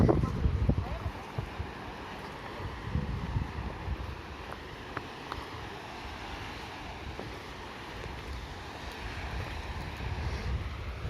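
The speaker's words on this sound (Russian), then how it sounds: "Ветер небольшой" Steady wind buffets the microphone at a beach on Taganrog Bay, Sea of Azov, in Yeysk, a low rumbling roar with faint surf underneath, continuous throughout with no talking.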